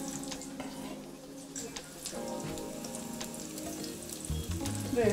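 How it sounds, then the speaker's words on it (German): Avocado slices frying in hot oil in a small pan for shakshuka, a steady crackling sizzle with brief louder pops near the end, close and continuous, with no talk over it. "Ich tue da jetzt schön meine Avocado in mein heißes Öl"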